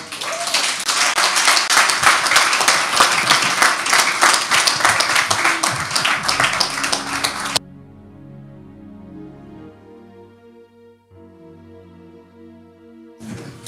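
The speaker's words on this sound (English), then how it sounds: "another round of applause" Enthusiastic crowd applause at a business conference, dense and loud with rapid overlapping claps for several seconds, then cutting off abruptly into a sustained musical tone.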